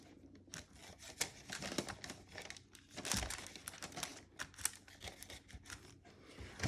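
Paper crinkling and being snipped with scissors while lining a wooden soap mold, a close run of dry crisp cuts and rustles with short irregular bursts, no talking.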